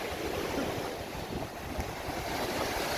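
Sea waves washing against a swimmer in the water, a dense, continuous rushing and sloshing of surf with strong wind buffeting the microphone, and no voices.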